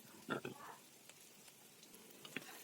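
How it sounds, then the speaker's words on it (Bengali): Crushed garlic fries in oil in a pan for a Bengali gathi kochu dish, giving a faint, steady sizzle with a couple of brief crackling bursts early on. "রসুনটা ভাজা হলে বেশ কচু মুখী তো"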